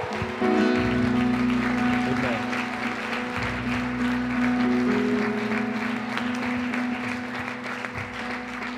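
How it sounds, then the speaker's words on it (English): A church congregation gives a sustained round of hand clapping in praise, loud and continuous for the whole stretch, mixed with a steady organ or keyboard chord and a few voices. "Somebody give the Lord a big hand clap of praise."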